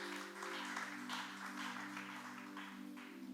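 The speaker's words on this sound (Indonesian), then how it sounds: "Tepuk tangan bagi Tuhan kita," A church congregation claps during a Sunday worship service, a steady faint wash of applause over sustained organ or keyboard tones.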